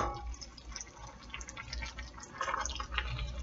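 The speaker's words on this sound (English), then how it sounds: "I'm gonna let that water that's already in that spaghetti go in there because I want the sauce to stick to the spaghettis" Starchy pasta cooking water pours from a pot of spaghetti into a pan of spaghetti sauce on a home stove, a steady close splashing and dribbling stream that carries on alone.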